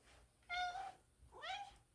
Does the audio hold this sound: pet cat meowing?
yes